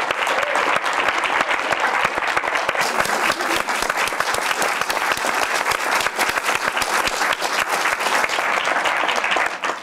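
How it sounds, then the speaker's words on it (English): Sustained audience applause fills a college lecture hall, a dense, steady wash of many hands clapping at full volume for the whole stretch with no break. "accept a well-deserved round of applause"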